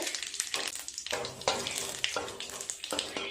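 Two bay leaves, a dried red chilli and a pinch of whole cumin crackle in hot oil for a jackfruit kofta curry, giving soft, close spitting and popping with uneven bursts and no voices.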